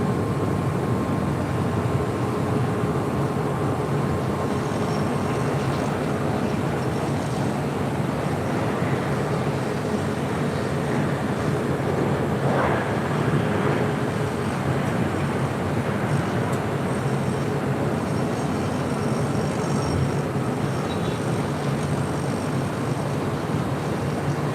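A large airliner rolls along taxiway Alpha on the south side of LAX, its engines giving a steady, loud, broadband rumble and whine that holds constant for the whole stretch with no voices.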